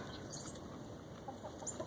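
Buff Orpington chickens and a rooster in a backyard give a few soft, scattered clucks, faint and distant over quiet outdoor ambience.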